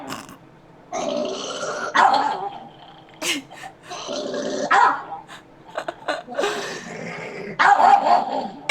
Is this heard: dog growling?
yes